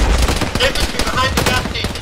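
Rapid gunfire in a ShackTac Arma video game session, a quick burst of loud, close shots in a short stretch, with faint radio-style voices mixed in.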